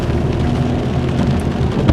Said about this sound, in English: And it's raining a good amount of rain right now.